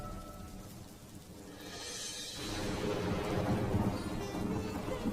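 Heavy rain and a rumble of thunder in a cartoon, a steady downpour that swells louder midway, with no voices over it.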